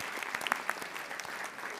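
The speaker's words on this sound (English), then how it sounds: "we will invite the audience to join us in recognizing the entire class of 2030 with a round of applause" Brief scattered applause from an audience at a school board meeting recognizing a student, a patter of claps at moderate distance with a few sharper hand hits.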